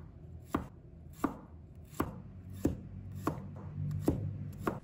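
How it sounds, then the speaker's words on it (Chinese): A knife slicing garlic into pieces on a chopping board, seven evenly spaced sharp thuds with a faint scraping between them, close and alone. "再准备一把大蒜， 把它切成片。"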